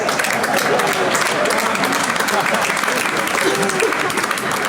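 Loud, sustained applause from a comedy club audience at a Bill Burr stand-up show in Germany, a dense wash of clapping with crowd murmur and scattered voices mixed in throughout.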